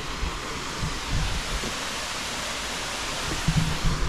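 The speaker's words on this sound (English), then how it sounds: "The waterfall's cool though, you can see already." At Glen waterfall in Ireland, falling water gives a broad, continuous roar heard from nearby, steady throughout with a few faint low bumps of movement.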